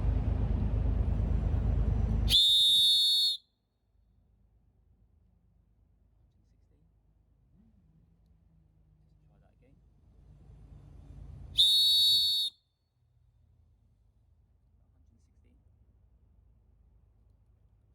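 A World Cup CyberWhistle blown twice in short shrill blasts, loud and close, separated by about nine seconds, with someone speaking briefly between them.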